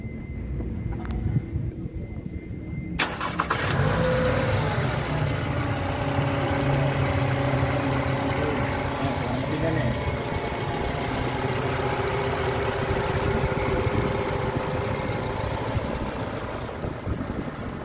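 A Toyota Camry engine idles steadily and close by, a low continuous rumble with a faint knock, starting after a few seconds of quieter background noise.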